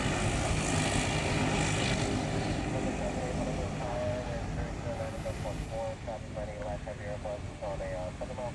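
A Boeing 747-8 at Honolulu airport produces a steady jet engine roar, with rising tonal whines in the latter half, and people talk over it.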